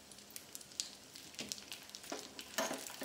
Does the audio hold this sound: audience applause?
no